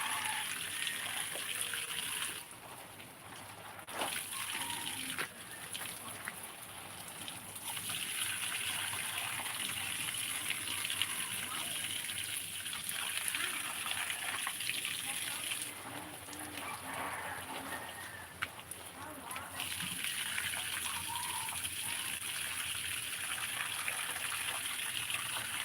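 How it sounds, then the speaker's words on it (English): Water gushes in a steady, faint outdoor stream while a mulberry and other plants are watered in summer, a continuous hiss with brief dips and soft trickling changes. "we have to water our mulberry too."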